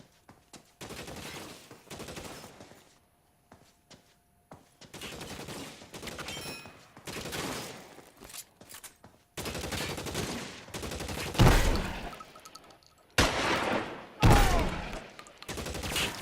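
A shootout in the video game LA Noire: repeated bursts of gunfire, some rapid volleys and some single cracks, loud and close, with short pauses between the exchanges.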